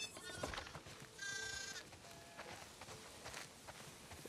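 Sheep bleat repeatedly on a farm in The Last of Us Part II, several close bleats spread across the moment over soft footsteps and ambient game sound.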